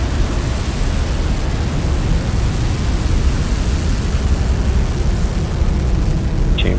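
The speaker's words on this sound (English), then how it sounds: "Ignition and liftoff." Gepardo rocket lifting off at ignition, a dense, steady broadband roar filling the whole stretch at high level without letting up, no voices over it.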